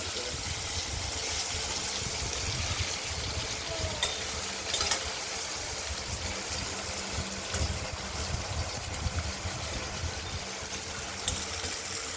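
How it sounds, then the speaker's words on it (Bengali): Vegetables sizzle and fry steadily in a pan, a loud continuous crackle with occasional stirring scrapes and clinks, close up. "লাল লাল করে ভাজা করবো,"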